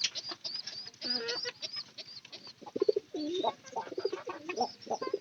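Domestic pigeons cooing close by, several overlapping throaty coos and burbles in quick succession, fairly loud with no talk.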